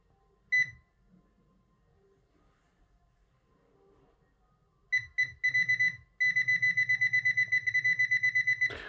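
A Nokta AccuPoint pinpointer held over a buried Soviet coin gives a short beep, then bursts of beeps that settle into a fast steady chirping tone, close and clear, with no talking.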